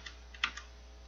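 A few light, separate keystrokes are tapped on a computer keyboard during programming work, soft and close in an otherwise quiet room.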